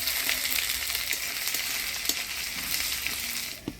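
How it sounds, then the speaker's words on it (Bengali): Dry red chillies, bay leaf, panch phoron and crushed ginger sizzle in hot oil with a soft, continuous crackle and spatter, faint and close, with occasional light pops. "এবার ফোড়নে দিয়ে দেবো শুকনো লঙ্কা তেজপাতা পাঁচফোড়ন আর থেতো করা আদা"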